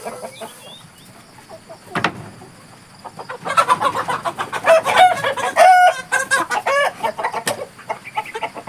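Light Sussex chickens clucking and squawking while being caught in a garden, quiet at first, then loud agitated bursts of clucks and cackles with a rooster crowing nearby.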